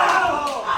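A wrestling crowd at a tag team championship match roars and shouts in unison, a loud sustained chant-like swell of many voices filling the arena.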